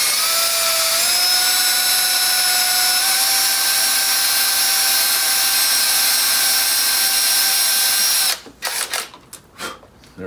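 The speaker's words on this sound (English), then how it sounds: "now we're finished with the drill" A power drill bores holes through a template into a Robe 600 LED wash lighting fixture, a loud sustained whine held for several seconds, then cut off into brief scraping and handling noises.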